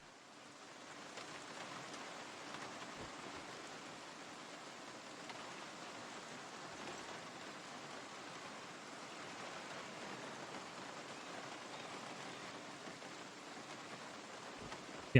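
Rain falls in the Project Zomboid video game, a steady even hiss of broadband noise that rises after the first second and holds without break, with no voices over it.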